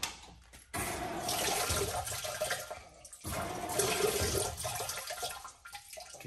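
Water rushes and gurgles as a tank that is half full of sandy beach water drains, coming in two long loud surges separated by brief quieter gaps, with no talking.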